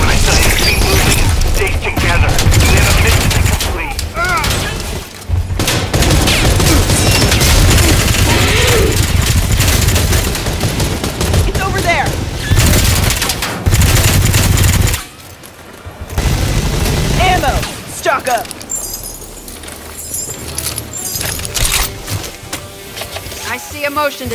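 Gunfire in Predator Hunting Grounds bursts in loud, dense volleys and rapid automatic rattles, mixed with mechanical clanks and crashes, with voices speaking over the chaos.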